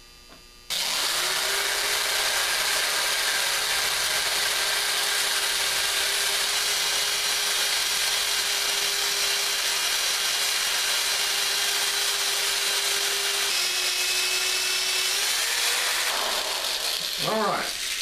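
A power drill runs steadily for about fifteen seconds while boring holes in wood for a blunderbuss stock comb, with a high continuous whine that dips slightly near the end, then spins down.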